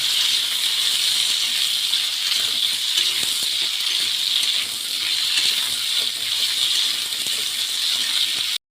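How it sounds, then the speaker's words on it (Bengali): Potatoes frying in hot oil in a home kitchen give a continuous, fairly loud sizzling hiss with faint crackles throughout, and no one speaks. "তেল গরম হয়ে গেছে, এবারে দেব আলু।"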